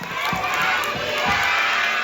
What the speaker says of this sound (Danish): Skal vi også lige råbe Lalandia?